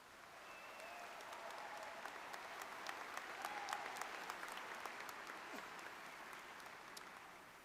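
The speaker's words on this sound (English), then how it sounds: "Please give them a round of applause." A graduation audience applauds the high school band, a steady, even wash of many hands clapping that swells slightly mid-way and holds throughout, fairly distant.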